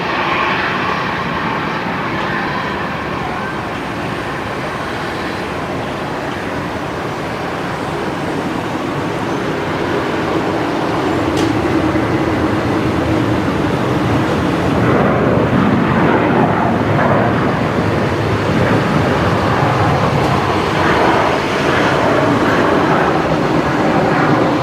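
A Qantas airliner at Brisbane Airport roars continuously with a broad, loud jet rumble, swelling slightly toward the end, with no talking over it.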